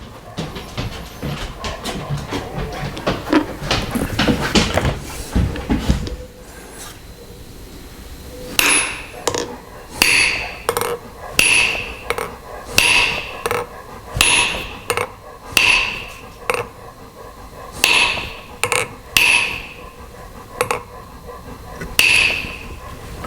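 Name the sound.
hammering a concave plate into a tractor cylinder head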